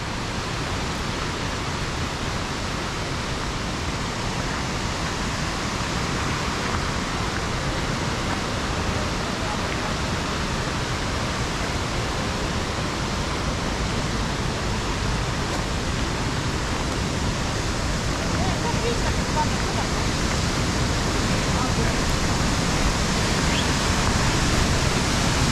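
The Pliva waterfall at Jajce, where the Pliva drops into the Vrbas river, roars as a constant loud broadband rush of falling water and spray that stays unchanged throughout.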